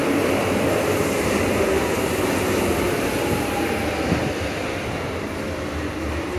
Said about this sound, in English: DLR train approaching, terminating here.